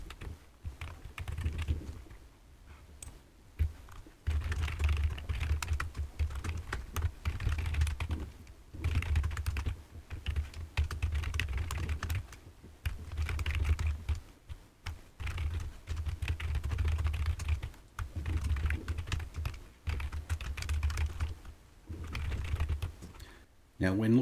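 Steady computer-keyboard typing while code is written for MetaTrader 5 trading software, dense clattering keystrokes running continuously over about 24 seconds with a few brief pauses, close and fairly loud.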